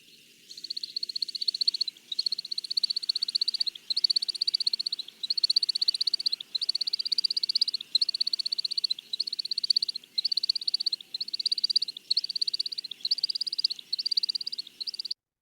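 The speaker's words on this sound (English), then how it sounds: "it's the sound of the air going over these modified outer flight feathers" A long series of high, rapid twittering bursts from air over a shorebird's modified outer flight feathers in a display flight, each lasting about a second with brief gaps between, steady and fairly clear throughout.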